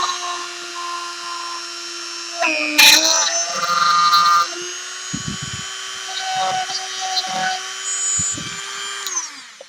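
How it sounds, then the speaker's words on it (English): A Dremel rotary tool whines at a high, steady pitch as it cuts a switch hole in a PlayStation 2 plastic case, rising into a harsher grinding burst as it bites in, loud and close. "So for the on and off switch, we're gonna be using the Dremel again."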